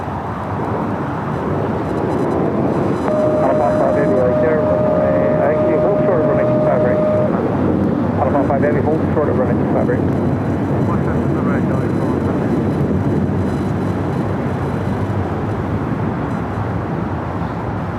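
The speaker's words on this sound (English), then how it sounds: "Next takeoff is Alaska Airlines Flight 1315 heading to Portland at a 737-900 ER" A Boeing 737-900ER jet in Alaska Airlines livery takes off at Los Angeles International Airport, a broad sustained engine roar that rises and holds, while a voice talks over it.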